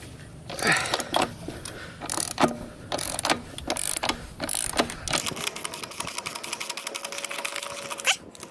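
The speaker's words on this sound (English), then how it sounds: "we loosen the axle nut. This may take quite a bit of leverage." Wrench loosening the rear axle nut on a Yamaha FJ-09 motorcycle, the bike on its center stand: close, rhythmic metallic ratchet clicks repeating steadily, with no voices.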